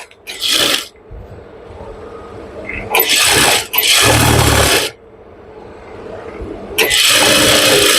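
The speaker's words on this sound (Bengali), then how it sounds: "এভাবে আমরা বারো ইঞ্চি দিয়ে এটা সেলাই করে নেব" A sewing machine stitching a pajama seam runs in several loud bursts of about a second each, separated by quieter handling pauses.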